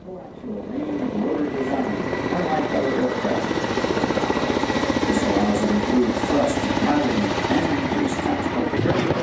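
Kamov Black Shark attack helicopter with coaxial counter-rotating rotors and no tail rotor, a steady loud rotor and turbine drone throughout, close and continuous.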